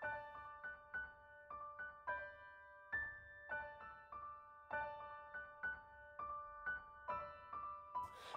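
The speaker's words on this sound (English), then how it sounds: "The sound you're hearing is the music that I'm playing through the Mac into the evaluation kit" Music plays faintly through the small speaker of an LPC55S16 evaluation board, a thin, quiet melody of short repeating plucked notes in an even rhythm with no talking.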